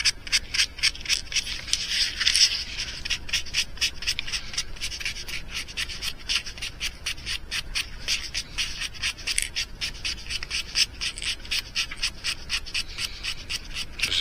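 Rapid rhythmic scratchy rubbing as a plastic mouse fishing lure is hand-sanded, shaping the plastic, continues steadily and close up.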